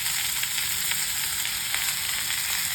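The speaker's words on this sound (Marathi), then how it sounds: "आता कांदा टाकायचा, एक छोटा टोमॅटो टाकलेला आहे, तो पण परतून घ्यायचा छान." Onion, tomato and coriander stems frying in hot oil give a steady, close sizzle, a dense continuous hiss with faint stirring and no voices.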